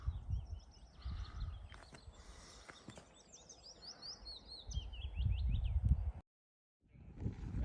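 Dunnock, willow warbler and goldcrest twitter and trill from the brush on windless sea cliffs at Slieve League, Donegal, high thin song phrases repeating over low rumbling handling noise, with a brief dropout near the end.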